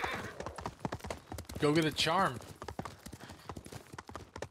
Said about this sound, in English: I'm not sure my horse should be up here.